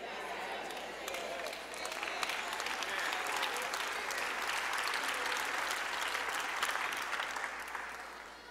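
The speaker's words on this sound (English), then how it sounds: "I think about 17 people clapped on that point right there." A church congregation breaks into sustained applause during a pastor's sermon on blaming the devil, steady broadband clapping swelling after the first second and holding throughout with no talk over it.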